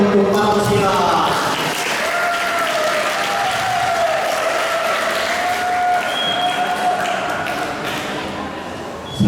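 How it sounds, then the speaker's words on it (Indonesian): An audience applauds steadily at a school show in a pesantren in Tangerang, sustained clapping with some cheering and a faint sustained tone running underneath. "Tepuk tangan yang meriah untuk Pancasila."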